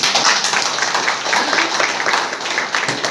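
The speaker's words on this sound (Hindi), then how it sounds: "इस दीदी के लिए जोरदार ताली" An audience applauds for a woman at a trust meeting, giving sustained, dense clapping that stays steady and fairly loud across the whole stretch with no voice over it.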